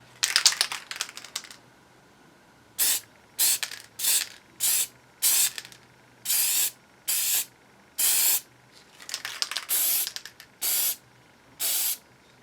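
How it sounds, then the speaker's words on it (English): Warmed spray paint from an aerosol can laid in a thick coat onto aluminum: a run of short bursts at first, then about a dozen distinct hissing sprays of roughly half a second each, separated by brief pauses, close and clear. "I've warmed up the spray paint in some warm water."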